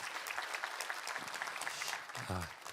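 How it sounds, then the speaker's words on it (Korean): Church congregation applauding during a worship service, a continuous patter of many hands clapping at a fairly quiet level, with a brief voice near the end. "우리 동생분을 치유해 주신 하나님께 우리 영광의 박수 올리겠습니다."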